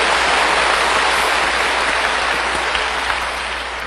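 A church congregation claps together during a sermon, a dense, loud wash of hands that holds steady and tapers slightly toward the end, with no talking over it.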